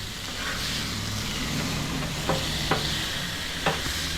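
Pork chops sizzle and crackle steadily on a hot griddle, with a few sharp scraping clicks as they are flipped over a low background hum.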